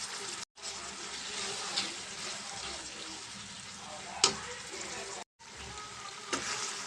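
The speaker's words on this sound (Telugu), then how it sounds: "టమాటా మనం వేసిన మెంతాకు కూడా బాగా ఫ్రై అయిపోయింది" Tomato and fenugreek leaves fry in a pan for a chicken fenugreek curry, a soft, steady sizzle with faint clinks and stirring, briefly cut off twice.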